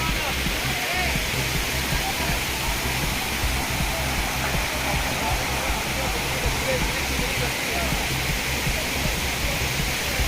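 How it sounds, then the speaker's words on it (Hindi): Floodwater from heavy rain cascades with a constant, loud rushing roar like a waterfall at a temple, unbroken for the whole stretch, with faint voices buried in the noise. "झरने चल रहे हैं,"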